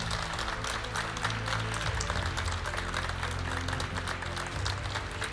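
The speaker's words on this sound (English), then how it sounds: "one more round of applause for our regional finalist and champion rather, Christian Fontenot from Denmark." Dense, steady applause from an audience at a Pokémon regional championship in Stuttgart fills the whole stretch, a continuous wash of many hands clapping over a low background hum.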